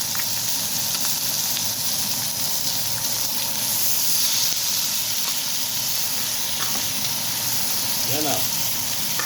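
Mixed vegetables frying in a hot kadhai, a continuous soft hissing sizzle with steam, fairly even and steady under a low background hum.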